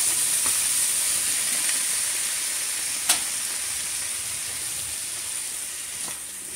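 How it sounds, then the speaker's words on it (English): Sliced zucchini sizzles loudly and steadily in hot oil in a skillet, a constant bright crackling hiss with an occasional sharp pop. "love that sizzle"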